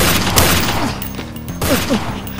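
A dense, chaotic burst of gunshot sound effects, rapid cracks and booms layered over one another, loud and close.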